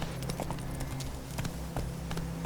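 Hooves of Roach, the horse in the video game The Witcher 3, galloping in a quick, rhythmic clip-clop at moderate distance, steady throughout the short stretch, with no talk.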